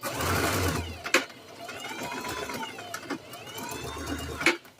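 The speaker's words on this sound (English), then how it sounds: "So right above the pin, I'm going to back stitch." A sewing machine back stitches a seam just above a pin while a jumpsuit is reworked into a tunic top, giving soft, close mechanical whirring in short bursts broken by sharp clicks.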